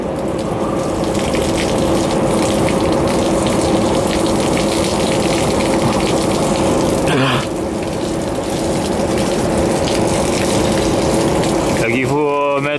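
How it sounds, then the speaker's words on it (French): Pressurised water jet spraying the finned condenser of a supermarket booster refrigeration unit, a loud continuous hissing rush with a brief interruption midway and a gurgling change near the end. "il faut mettre le jet d'eau dans le sens des ailettes bien sûr"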